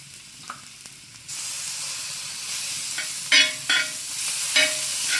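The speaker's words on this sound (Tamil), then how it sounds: "தக்காளி கொஞ்சம் நல்லா வதங்கி வரட்டு" Onion and tomato for chicken sukka sauté in a hot pan: quiet stirring taps at first, then a sudden loud steady sizzle with a few sharper bursts as the pan is stirred.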